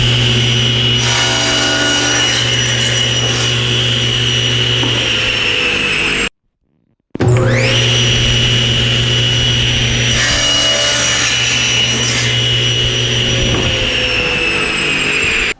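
A table saw with a sled and clamped stop block cuts long wooden bookcase posts: a loud, steady, close-up whine and roar that drops out briefly midway, then spins back up and runs on.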